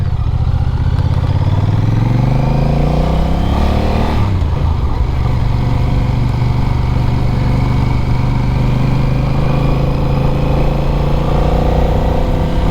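A Honda Rebel 1100 motorcycle being ridden at moderate speed while still running in, its engine note holding a steady, loud drone with a rising shift in pitch early on, accompanied by constant wind and road rumble.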